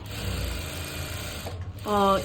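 A sewing machine stitches the side seam of a churidar top, giving a steady close mechanical whir and rattle throughout, with a voice briefly speaking near the end.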